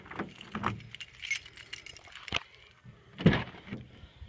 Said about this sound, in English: We'll go ahead and unlock it.